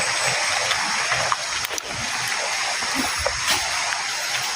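A forest creek flowing steadily nearby, a continuous broadband rush of water with a few faint splashes and knocks on top.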